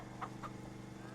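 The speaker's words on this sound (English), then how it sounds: "And we should be full up on chickens now. 30 out of 30." A couple of quick chicken clucks from Farming Simulator 25 sound faintly over a low, steady hum, brief and soft.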